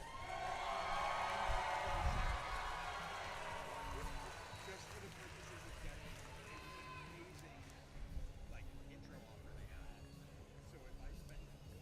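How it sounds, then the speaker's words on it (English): Spectators at an FRC robotics competition in Rochester, NY, cheering for the Blue Alliance, with a loud crowd roar that peaks early and then settles into a sustained, slightly fading wash of shouting and clapping. "now let's hear from everyone cheering for the Blue Alliance."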